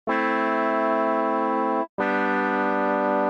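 Two sustained, bright synthesizer notes with a buzzy, resonant tone, separated by a brief gap.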